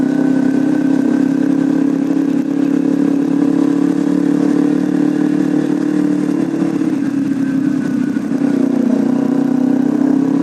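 A motorcycle with a racing exhaust drones loudly and steadily through Pangkal Pinang with a deep, throaty exhaust note. The pitch dips briefly, then holds again.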